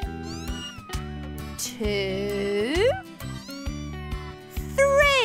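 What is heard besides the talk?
newborn kittens meowing in a cartoon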